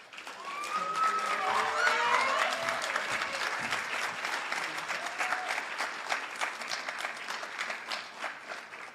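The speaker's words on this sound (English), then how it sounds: "Let's give Ms. Patterson another round of applause" A large audience applauds at a 2023 university honors program induction ceremony, with steady, dense clapping that swells early, holds for the full stretch with a few whoops, then tapers slightly.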